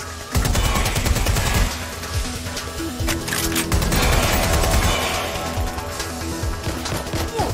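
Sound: gunfire from the video game Watch Dogs: Legion

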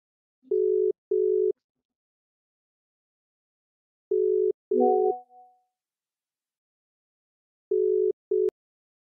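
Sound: telephone dial tone while placing a call

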